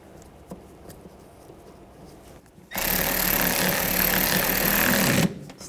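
A power screwdriver tightens a screw on a 2006-10 Volkswagen Jetta headlight, giving a loud, steady whir of about two and a half seconds that cuts off abruptly after a few quiet handling clicks.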